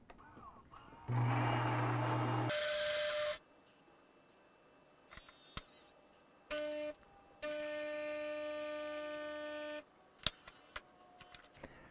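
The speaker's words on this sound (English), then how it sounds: "I want to show you just how simple it is to brew an espresso on our Gaggia Velasca." Gaggia Velasca espresso machine grinding beans and brewing a shot: a loud whirring grind burst, then quieter clicks, then a steady humming pump run, with sharp clicks between stages.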